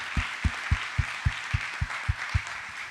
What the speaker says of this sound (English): the audience here can give our panelists a hand of applause